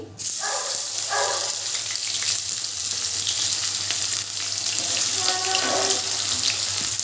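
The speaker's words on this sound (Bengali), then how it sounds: "এবারে ওই তেলের ভেতরে আমি দিয়ে দিচ্ছি পেঁয়াজ কুচি" Chopped onion hits hot oil for a mutton biryani and fries with a loud, dense, continuous hiss. A few soft clinks of a utensil sound near the start and again toward the end.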